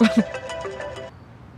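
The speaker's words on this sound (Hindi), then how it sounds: "मैं समझी कि मेरा फोन बज रहा है" A short electronic ringtone melody plays brightly for about a second, then cuts off into quiet room tone.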